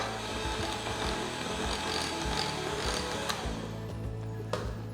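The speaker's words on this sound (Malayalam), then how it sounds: "ലോ സ്പീഡിൽ ബീറ്റ് ചെയ്യാം." Electric hand mixer beating tutti frutti cake batter at low speed, a constant close whirring hum with a scraping rasp of the beaters against the bowl.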